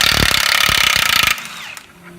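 A power impact tool with a 35 mm socket hammering off a nut, rapid loud close rattling bursts for over a second, then a quick whir and stop into quiet.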